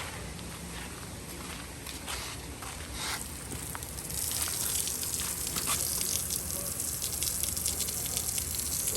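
Water gushes steadily from a tap in a resort restroom, a close hiss that swells louder partway through, with faint footsteps nearby.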